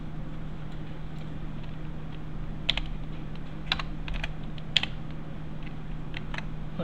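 Quiet computer keyboard typing: sparse, irregular clicks over a steady low hum, faint and close, with no talking.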